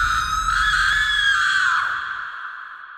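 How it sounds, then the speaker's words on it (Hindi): A woman screams loudly into a deep well, one long sustained high cry that slowly fades out, over a low rumbling background in an audio drama. "वो एक बार उस गहरे कुएं में देखकर जोर से चिल्लाती है"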